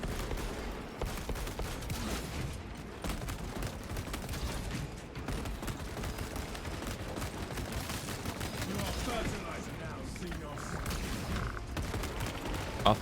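Heavy bolt rifle gunfire in a video game firefight, with dense, rapid shots crackling continuously and loudly across the whole stretch, layered with other in-game combat noise.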